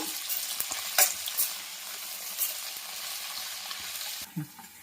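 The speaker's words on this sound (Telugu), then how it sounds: "కొంచెం ఆయిల్ వేసి ఫ్రై చేస్తున్నాను" Ivy gourd pieces fry in a little oil in a pan, a steady soft sizzle with occasional stirring clicks and scrapes, fairly close, fading near the end.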